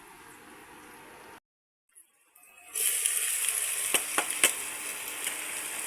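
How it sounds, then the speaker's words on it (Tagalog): Onion and garlic hit hot oil for a Filipino beef mechado, and after a brief silence a loud, steady sizzle of sautéing takes over, with a few scraping stirs on top. "Magigisa na tayo. Sibuyas, bawang."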